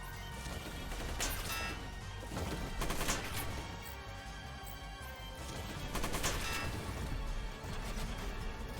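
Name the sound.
missiles fired in video game Front Mission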